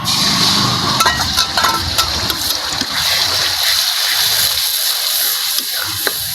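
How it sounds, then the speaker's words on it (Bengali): Ground spice paste with turmeric fries in oil for a Bengali village-style chicken and cauliflower curry, giving a steady, dense sizzling hiss that runs throughout with small pops and crackles. "মশলাটা ভেজে নেবো তেলের ভিতরে"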